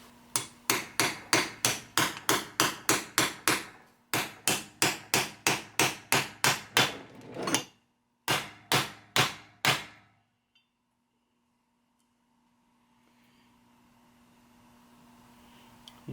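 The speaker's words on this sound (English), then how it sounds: "You're just going to hammer this in until it's nice and flush." Hammer blows drive a new bearing race into a Ford tractor 5-speed transmission, roughly two dozen sharp metallic strikes in quick steady bursts with brief pauses, close and loud, then silence.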